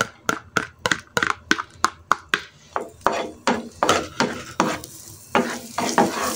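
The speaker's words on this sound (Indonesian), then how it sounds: "Kita tumis sampai wangi." Garlic and chili stir-fried in a pan, heard as rapid rhythmic spatula strikes and scrapes, loud and close, over a frying sizzle that grows denser toward the end.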